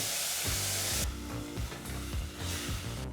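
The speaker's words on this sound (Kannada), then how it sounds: "ಈ ಟೊಮೊಟೊ ಹಣ್ಣನ್ನು ಚೆನ್ನಾಗಿ ಸಾಫ್ಟ್ ಆಗೋವರೆಗೂ ಫ್ರೈ ಮಾಡಬೇಕಾಗತ್ತೆ" Tomatoes fry with salt in a pan, a steady close hiss and sizzle that starts as a harsh spray-like burst and settles into continuous crackling.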